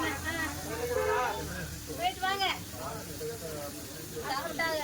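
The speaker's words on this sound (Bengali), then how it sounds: "এখানে হচ্ছে গিয়ে এই মাছ ভেজে দিচ্ছে" Fish frying at a seaside stall in Dhanushkodi hisses and sizzles steadily in hot oil, close by, while people talk over it throughout.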